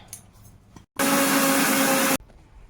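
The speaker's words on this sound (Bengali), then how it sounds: "সর্ষে আর পোস্ত এটা একটু শুকনো অবস্থায় পিষে নেব" An electric grinder dry-grinding mustard and poppy seeds whirs loudly in a single steady burst of just over a second, starting and stopping abruptly after quiet kitchen background.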